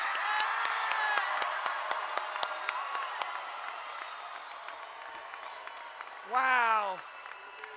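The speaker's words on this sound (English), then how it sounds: "Let's give a round of applause and let's celebrate these graduates." A graduation crowd at a high school ceremony claps and cheers, loud at first and gradually thinning, with a voice exclaiming near the end as the clapping fades.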